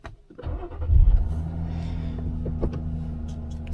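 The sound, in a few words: Jeep engine starting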